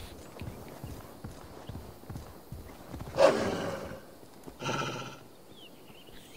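A horse in the Assassin's Creed Valhalla video game, rhythmic hoofbeats clip-clopping at a steady pace, then two loud whinnies, with faint background game ambience.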